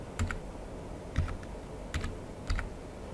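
A few isolated keystrokes on a computer keyboard while a password is entered, four light clicks spaced evenly over low room noise, close and quiet without any voices.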